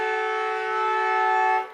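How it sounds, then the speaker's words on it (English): A final siren sounds at a suburban Australian football semi-final, Killarney Vale against Cardiff: one loud, steady sustained blast with stacked harmonic tones that holds for over a second and a half, then cuts off abruptly. "And there's a final siren"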